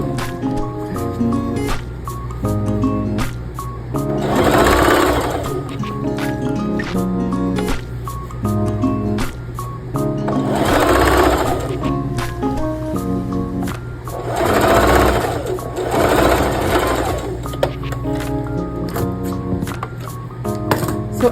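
A sewing machine stitches the two joined edges of a fabric scrunchie, running in several loud rapid bursts separated by quieter pauses and short clicking sounds, close and clear with no voice.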